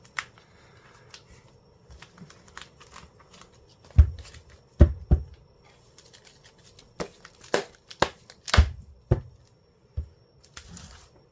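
Tarot cards shuffle in a quiet room, with a string of crisp riffling bursts and soft slaps arriving irregularly, close and distinct against near silence.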